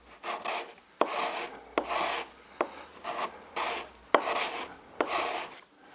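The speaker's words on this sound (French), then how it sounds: "on va aussi passer un coup de racloir pour avoir une surface bien propre" A fine cabinet scraper drawn repeatedly over the wooden neck of a handmade guitar, giving close rasping strokes about once a second, each a bright scrape separated by short pauses, with no voices.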